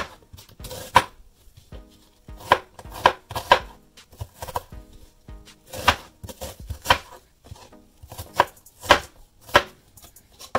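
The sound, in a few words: chopping onions with a knife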